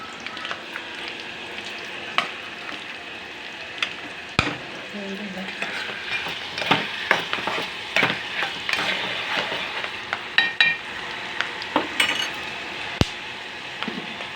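Cooked rice stirred and mixed with tamarind paste in plenty of oil for pulihora, giving continuous close scraping and gentle sizzling, with occasional sharp knocks of a spoon against the pan and no talk.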